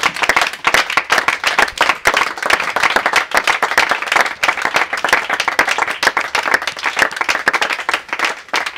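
A church congregation applauding to acclaim the Lord, sustained dense hand clapping from many people close by, steady and lively throughout with faint voices mixed in.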